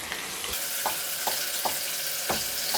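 Tomato paste and garlic fry in a pot, a dense close sizzle with several soft stirring scrapes at regular intervals.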